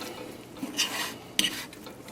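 A spoon stirs melting cheese in a pan in a short late-night snack session, giving light scraping and clinking against the pan with a soft sizzle underneath; two brighter scrapes stand out, and no one speaks.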